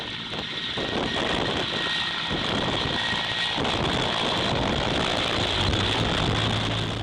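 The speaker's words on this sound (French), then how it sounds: "Les 2 hélicoptères s'envolent vers le lieu de rendez-vous." Two helicopters lift off together for a rendezvous, a steady loud rotor and engine roar filling the scene without pause, rising slightly as they climb.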